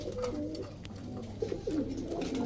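Pakistani teddy racer pigeons coo in soft, throaty rolling bursts, with a couple of calls close by over a low background hum.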